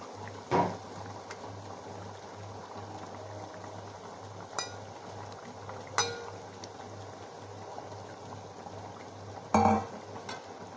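Fried fish pieces slid into a pot of simmering curry with softened potatoes, giving a few soft clunks and splashes spaced over a steady low hum of boiling.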